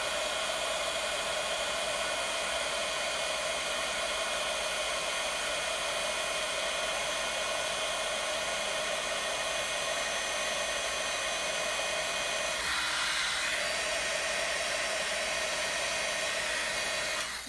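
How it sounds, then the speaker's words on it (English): A heat gun blows steadily and close up while melting shimmer paper for card making, a constant loud hiss and whir running unbroken throughout with only a slight change in tone partway through. "turning the heat gun on. And let's watch it melt."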